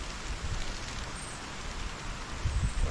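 Steady rain with wind, a broad constant hiss with soft low gusts swelling near the end, no voices.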